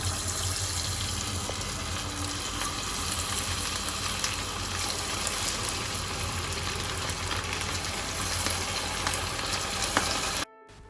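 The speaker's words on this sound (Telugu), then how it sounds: "మీడియం ఫ్లేమ్లో ఆ పీసెస్ అనేవి గోల్డెన్ బ్రౌన్ కలర్ అయ్యే వరకు అలా కాల్చుకోండి" Chicken 65 pieces deep-fry in hot oil in a kadai over a medium flame, giving a steady, dense sizzle and crackle that runs unbroken before cutting off abruptly.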